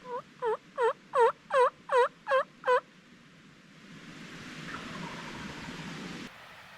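A wild turkey gobbles in a run of about eight quick, rolling pulses from some distance, followed by a steady wash of wind-like outdoor noise during a hunt.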